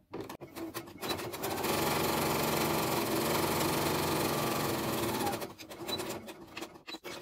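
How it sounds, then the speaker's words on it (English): Sewing machine stitching a flat felled seam along a folded garment edge, starting with a few short taps, then a steady close whirring run of about four seconds before slowing into scattered clicks. "now I'm aiming to sew right along that folded edge"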